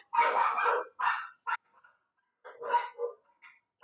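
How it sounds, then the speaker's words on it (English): Pet dogs bark indoors in a series of sharp, close barks, a few quick ones in a burst, then a pause and a couple more yips, loud against otherwise silent background. "My damn dogs do not stop."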